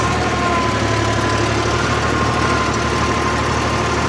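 A farm vehicle engine running in low second gear on a village road, a loud, close, steady drone with a constant low throb and no pauses.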